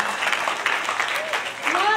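Brief scattered applause from an audience at a book launch, a light patter of clapping with a voice speaking over it.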